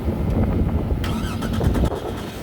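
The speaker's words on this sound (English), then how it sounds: "You can start your car up after you hook the battery up." A 2006 Chevrolet TrailBlazer engine cranks and catches after a starter replacement, rumbling loudly up close and settling into a steady idle.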